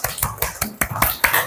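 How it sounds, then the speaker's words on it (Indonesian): Second-grade classroom clapping together in a steady, evenly spaced rhythm of about eight sharp claps, moderately close. "Tepuk tangan untuk kita semua."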